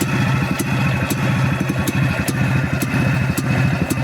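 A freshly rebuilt 559 engine idles at very low revs, a loud, close, rhythmic chugging clatter with regular sharp ticks throughout.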